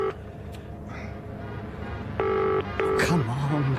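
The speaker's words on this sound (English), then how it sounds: "I hope to God the phone number hasn't changed since the Morrises were there" A telephone number being dialed at home at night, a quick run of clear touch-tone beeps in two short bursts over a faint background hum, followed by a brief low electronic warble.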